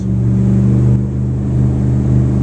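Boat engine held at 3,000 RPM at the dock with the engine compartment closed, giving a throaty growl: a loud, steady low drone with layered harmonic hum throughout, no voices.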